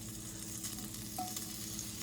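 Sausages browning in a hot skillet, a steady crackling hiss with a faint clink of a utensil, no voices.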